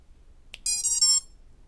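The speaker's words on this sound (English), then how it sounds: "the flight controller powered up, so I'm not worried about the last two flight controller beeps not going" A drone's flight controller powering up on a freestyle quad build gives a short tick followed by a quick series of bright electronic beeps, close and clean over near silence.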